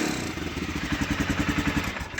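A BMW F650 Funduro motorcycle single-cylinder engine breathing through an aftermarket Staintune exhaust, idling with a steady, throaty pulsing thump close by and no talk over it.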